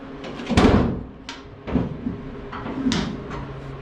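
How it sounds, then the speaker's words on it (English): A car hood being opened: several knocks and clunks of the latch and panel, close by, separated by pauses, with no talking. "So now let's open the hood."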